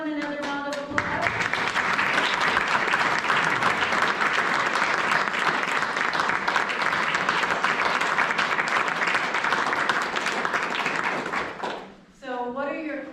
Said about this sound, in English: Shall we give everyone another round of applause?